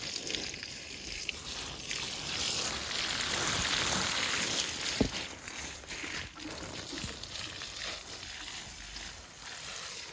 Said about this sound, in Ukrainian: Так, але спочатку я хочу пролити всю капусту.